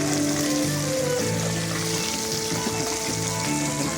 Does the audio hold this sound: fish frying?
yes